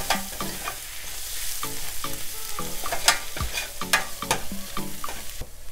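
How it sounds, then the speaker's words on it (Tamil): Chilli, coriander, garam masala and turmeric powders frying in a pan over a low flame, stirred with steady scraping strokes and spoon knocks against the pan above a soft, constant sizzle, close and with no voices. "இப்போ நம்ம எடுத்து வச்சுருக்கிற மிளகாப்பொடி, மல்லிப்பொடி, கரம் மசாலாப்பொடி, மஞ்சப்பொடி இதை எல்லாத்தையும் நம்ம சேர்த்து மிக்ஸ் பண்ணி விட்டுறலாம்"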